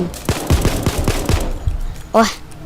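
Rapid bursts of gunfire from the heist shooter game PayDay 2, several sharp shots in an irregular volley, loud and close, followed by a brief electronic tone.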